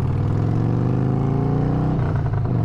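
A motorcycle engine drones steadily at speed on a test ride, loud and close, with a slight shift in pitch near the end and no talking.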